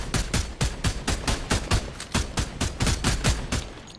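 Rapid gunshots in the video game Fortnite, a loud, close string of about fifteen sharp shots fired at a quick, slightly uneven rhythm, with no voices over them.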